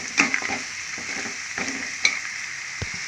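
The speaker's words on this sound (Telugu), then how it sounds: "దీన్ని బాగా ఫ్రై చేసుకోవాలి అలాగే ఇందులో కొంచెం అల్లం వెల్లుల్లి పేస్ట్ కూడా వేసేసుకున్నాను" Ginger garlic paste fries in a pan for an egg curry, a steady sizzle broken by light scraping strokes of a spoon stirring, close and alone without talk.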